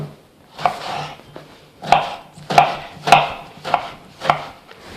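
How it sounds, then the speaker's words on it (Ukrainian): Knife chopping vegetables into coarse pieces on a cutting board for minestrone, about eight distinct thuds in an uneven rhythm, close and clear with no talking. "нарізуємо грубшими кусочками"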